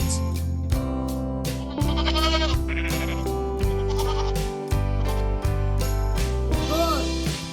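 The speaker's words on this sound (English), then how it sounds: "Goat." A goat bleats several times in short, wavering cries spaced a couple of seconds apart, heard over continuous tonal background music.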